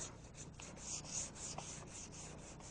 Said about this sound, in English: We're going to be sanding with 400 grit sandpaper to feather edge into the original paint here